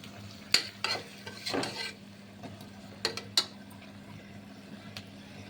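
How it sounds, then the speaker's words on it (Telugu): Masala being stirred into dondakai (ivy gourd) curry in a pan, with a few sharp scrapes and clinks of the spoon against the metal over a faint steady sizzle, close by and without speech. "బాగా కలిపేసుకోవాలి దీన్ని."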